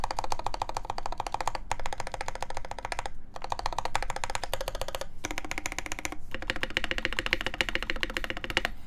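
Steady, fast typing on a hollow-sounding mechanical keyboard with a regular plate, crisp key clacks in continuous runs with a few brief pauses, close and clear with no talking.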